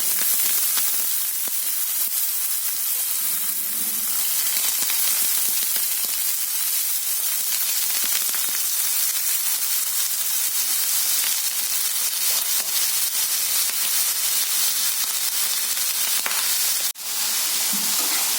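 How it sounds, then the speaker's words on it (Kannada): Cut potatoes dropped into very hot oil over a high gas flame fry with a loud, steady, hissing sizzle throughout, with a brief clatter near the end. "ಈಗ ಎಣ್ಣೆ ತುಂಬಾ ಬಿಸಿ ಆಗಿದೆ. ಇದಕ್ಕೆ ಈಗ ನಾನು ಕಟ್ ಮಾಡಿ ಇಟ್ಕೊಂಡಿರುವಂತ ಬಟಾಟೆಯನ್ನು ಹಾಕ್ತಾ ಇದ್ದೇನೆ."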